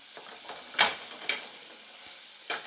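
Potatoes sizzling in a hot pan, a continuous crackling fry broken by several sharp bursts of spatter and stirring scrapes at irregular intervals, close and fairly loud.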